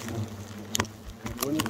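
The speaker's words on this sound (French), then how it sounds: "Gros nid de frelon." Hornets buzz around a large hornet nest on a building near a cathedral, a close, rough insect drone broken by short bumps and clicks.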